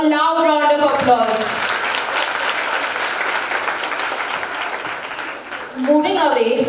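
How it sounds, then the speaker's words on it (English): A loud round of audience applause at a school annual exhibition, a dense sustained clapping wash lasting several seconds, with a voice speaking over it at the start and again as it fades. "A loud round of applause."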